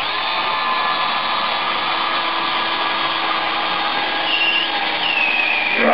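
A DeWalt cordless drill whines steadily and loudly while drilling a hole, a continuous high motor drone that shifts pitch slightly near the end as it bites in.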